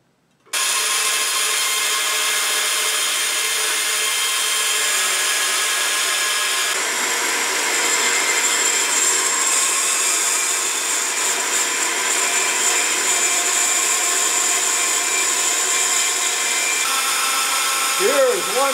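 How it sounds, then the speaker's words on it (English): A power saw cuts salvaged wood for a turkey blind while a shop dust vacuum runs. Together they make a loud, continuous roar that starts abruptly and holds for nearly the whole clip. "I'm going to hook up the vacuum as well to capture some of the dust as it's cut."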